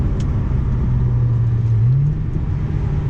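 An Audi B6 A4 with a full ECS catback exhaust rumbles steadily from inside the cabin, its engine note rising and dipping as it revs through gear shifts on a night drive, loud and continuous with no talking.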